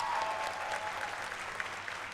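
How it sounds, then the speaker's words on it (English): An audience at a university convocation applauds degree recipients in Master of Architecture Urban Design, a steady, moderately faint wash of clapping with no talk over it. "All of you may please applaud for the degree recipients of Master of Architecture Urban Design"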